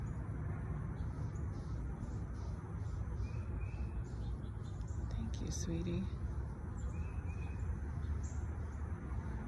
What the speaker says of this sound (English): Here's my little finches.